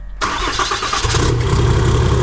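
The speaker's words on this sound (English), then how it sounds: "fire your engines" A silver Ram Megacab pickup truck engine cranks and fires up, then settles into a deep, steady idle whose low rumble swells a second later, close and loud with no talking.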